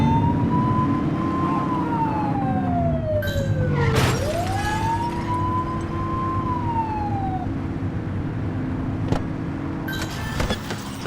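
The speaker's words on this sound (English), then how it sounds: "Remember to turn your siren on." A police car siren in the video game The Precinct wails up and down in long sweeping cycles, loud and close, over a steady rumble of engine and traffic noise, with no talking.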